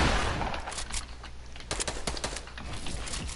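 Rapid bursts of gunfire from Fortnite, a dense run of sharp cracks and pops at fairly close range with no talk, the shots crowding together over a steady background.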